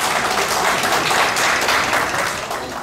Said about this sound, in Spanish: pido a todos los presentes fuertes los aplausos para los señores periodistas